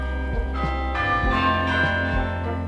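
A church bell rings in several clear, resonant strikes with long ringing overtones that overlap and decay, moderately loud and heard alone.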